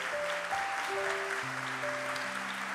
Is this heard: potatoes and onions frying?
no